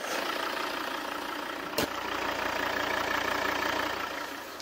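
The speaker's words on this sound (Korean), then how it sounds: "이 정도의 엔진 소음을 만나보실 수가 있습니다." A first-generation Volvo XC60 D4 diesel engine idling, a steady low rumble with a faint diesel clatter, heard up close with one brief click partway through.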